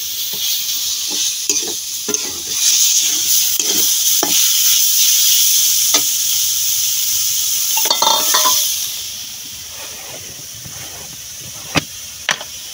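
Leafy greens frying in a pan, a continuous loud sizzle and hiss with repeated scraping stirs of a spoon against the pan, the sizzle easing off toward the end, followed by a few sharp clinks.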